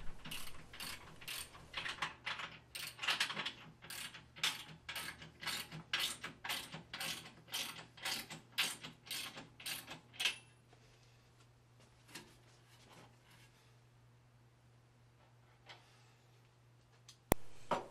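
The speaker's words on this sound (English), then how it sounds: "Draw the bracket up snug now so the vertical legs seat on the new angle iron." Roof bracket mechanism being cranked up snug onto angle iron, a series of sharp ratcheting clicks in a steady rhythm for about ten seconds, followed by quiet with a faint hum and a few isolated knocks.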